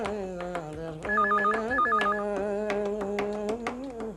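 A telephone rings in a stretch of a Hindi comedy serial, with repeated two-tone electronic trills sounding close and clear over a steady background tone, with no talk.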